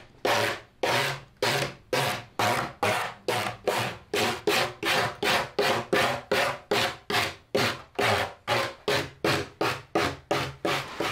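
Repeated rhythmic rubbing strokes, like sanding or rasping, roughen the surface of a deer taxidermy form; about two dozen steady back-and-forth passes, close and fairly loud, with no talking.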